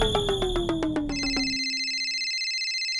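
A telephone rings with a bright electronic ringtone, a run of rapid pulsing tones that gives way to a steady, high sustained tone, heard alone and fairly loud.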